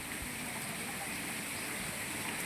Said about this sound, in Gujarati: બજારમાં પાણી હોપટ જાય છે જરૂર છે એ રીતના જ વરસાદ થાય છે